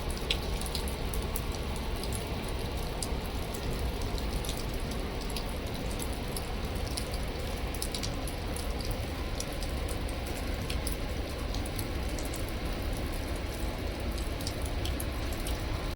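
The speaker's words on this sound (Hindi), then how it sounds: "जब से चेक इन किया है सिर्फ बारिश और बारिश ही चल रही है" Steady monsoon rain falls continuously near Jog Falls, a dense even hiss with scattered drips and patters, no voices.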